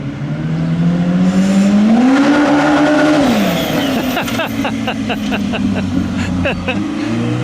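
Tires spin hard on an Ibexx Turbo Pro R UTV strapped to a dyno: a loud, sustained engine roar with a rising then falling pitch, rapid rhythmic tire slaps and squeal, and faint shouting voices underneath.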